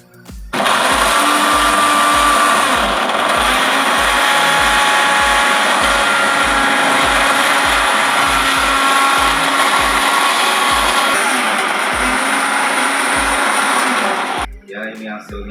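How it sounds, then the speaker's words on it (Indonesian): A blender grinds red chili and spices with a little water for a vegan mushroom rendang, a loud, steady high whir running for most of the time, with rhythmic low knocks beneath, before switching off at the end. "Jadi ada cabai merah, kita sudah blender juga."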